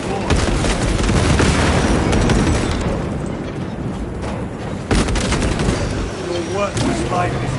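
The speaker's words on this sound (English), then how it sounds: "Frag grenade deployed!" Video game combat with a frag grenade explosion and bursts of gunfire, dense and loud throughout with booming impacts over continuous shooting, and game voices calling out over the action.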